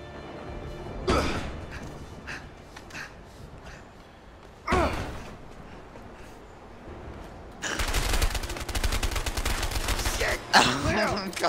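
Gunfire in the video game A Way Out: a few sharp single shots spaced apart, then a long sustained burst of rapid automatic fire near the end, loud and close, with no speech.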